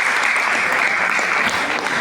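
Audience applause fills the space, a dense steady clatter of many hands that holds loud and even from start to finish, with a faint voice underneath.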